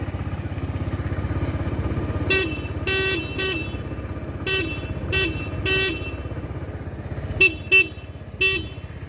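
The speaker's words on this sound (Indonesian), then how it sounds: "langsung aja kita uji coba yaitu klakson ya" Honda PCX 2022 scooter horn tested in a series of short, loud beeps of varied length against a steady idling engine, with no talking.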